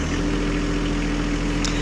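A new tractor engine runs at a steady, loud idle with a constant low hum and even tone throughout.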